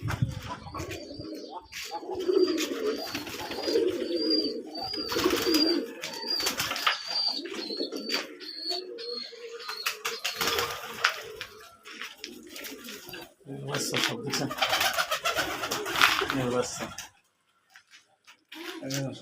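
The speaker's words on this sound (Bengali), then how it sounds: "এই গোটা কবুতর" Desi pigeons coo in soft, repeated low calls close by, with occasional wing flutters and some background chatter.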